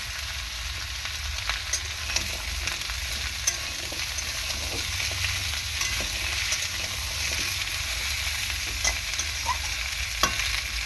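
Tomatoes added to vegetables frying in a pan for a vegetarian curry, with steady sizzling and spatula stirring scrapes throughout, close and continuous, no talk.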